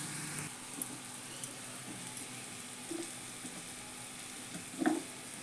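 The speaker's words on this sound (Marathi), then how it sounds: "आता मी 1 चमचा हे सगळं सोया सॉस, चिली सॉस आणि red chilli sauce, green chilli sauce आणि व्हिनेगर हे सगळे 1-1 चमचा टाकते." Spoonfuls of soy sauce, red and green chili sauces and vinegar go into a hot pan over a soft, steady sizzle. A few light clinks of a spoon sound near the end, and no one speaks.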